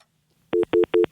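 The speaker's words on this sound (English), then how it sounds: "there's a dial tone for you." A telephone line tone sounds in four evenly spaced, loud beeping pulses after a brief quiet lead-in, with no talking.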